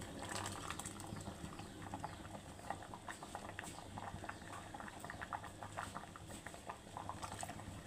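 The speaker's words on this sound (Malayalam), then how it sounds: "നമ്മൾ കറി നല്ലോണം തിളച്ചിട്ടുണ്ട്." A chickpea curry with ground coconut bubbles in a pot, a soft, continuous patter of small pops and blips at low volume with no voices.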